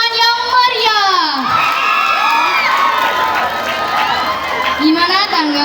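Students at a school student council debate cheer and shout loudly, with high-pitched voices whooping in a continuous, excited crowd roar; clapping is not clearly distinguishable beneath the shouting.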